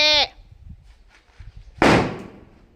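A single sharp, loud firecracker bang with a noisy decaying tail, preceded by a brief tonal squeal and faint background murmur.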